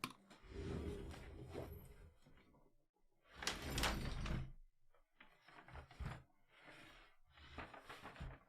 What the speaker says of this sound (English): this is like the sound of a chair being, like, dragged along the floor